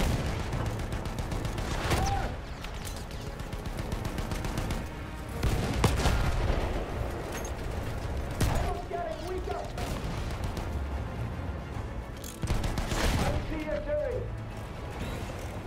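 Battlefield 1 war gunfire: dense, continuous volleys of rifle and machine-gun shots with heavy booming impacts, loud and close, rising in bursts around a steady battlefield din, with voices heard briefly among the shooting.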